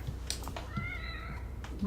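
A cat in the horror video game The Evil Within gives a drawn-out, wavering meow amid quiet game ambience, with a few soft clicks and rustles around it.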